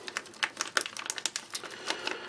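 The resealable zip strip of a Norwegian Army arctic field ration pouch of reindeer stew is pressed shut, giving a quick run of close, crisp plastic clicks and ticks at an uneven rhythm.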